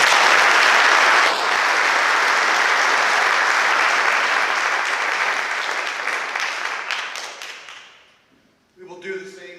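Loud, sustained applause from an audience at a high school senior awards ceremony, steady broadband clapping for about eight seconds before fading out, followed by a brief moment of speech at the end.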